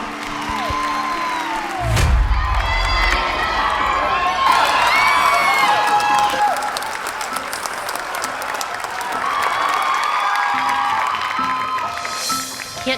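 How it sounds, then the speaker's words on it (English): A large crowd at a dance competition screams and cheers loudly, with high-pitched shrieks and whoops from many young voices over steady applause, sustained throughout with a brief low thump near the start. "The crowd is screaming"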